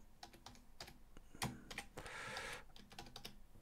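Rapid typing on a computer keyboard while editing a course page template, with close irregular key clicks and short bursts, one louder key press and a longer rattling run in the middle, no voice present.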